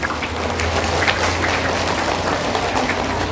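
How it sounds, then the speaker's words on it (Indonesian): An audience at an Indonesian religious outreach gathering in Banyuasin applauds, a dense and steady burst of clapping from many hands lasting a few seconds, with no talk over it. "Tepuk tangan."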